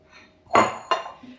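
Dishes clatter as a bowl is taken out to prepare a chicken, mushroom and glass noodle filling, two quick close knocks of metal and crockery with no voices.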